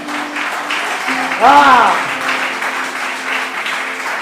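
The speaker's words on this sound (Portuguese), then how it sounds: "Você pode aplaudir ao Senhor aí, querido?" A church congregation applauding during a service, clapping heard under a loud voice that speaks and briefly sings or exclaims over it, with the clapping continuing at a steady level.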